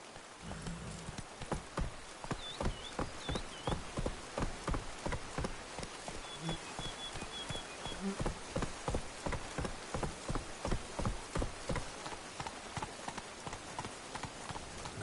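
Hooves of Roach, the horse in The Witcher 3, clop in a steady rhythmic gait through rain, with a soft rainfall hiss underneath and a faint bird call.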